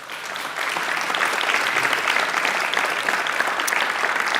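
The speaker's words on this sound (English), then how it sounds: "let's have a big round of applause for our panel," An audience at the IFA 2022 tech summit gives a panel a round of applause, a full, continuous burst of many hands clapping that starts abruptly and stays loud throughout.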